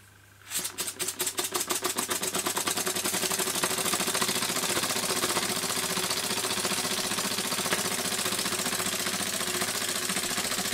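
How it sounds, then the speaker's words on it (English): A steam engine running poorly starts up and chugs in a fast, steady rhythm of close, loud mechanical beats, with the pulses blurring into a continuous labouring roar for the remaining seconds. "this engine is not running very well,"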